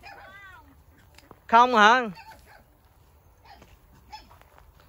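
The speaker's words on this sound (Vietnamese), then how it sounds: "cái nhà của mấy bé chó đây hả?" Puppies whimper at their dog house on a rural Vietnamese farm: a short thin whine near the start, then a louder wavering cry, both under people talking nearby.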